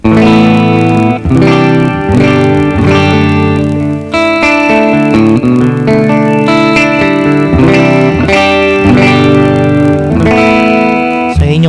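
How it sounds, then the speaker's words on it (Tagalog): Electric guitar played through a Joyo I-Plug headphone amp using the GE Labs app, ringing chords with sustained notes and a touch of reverb, loud and alone without speech. "So, check natin yung tunog ng GE Labs."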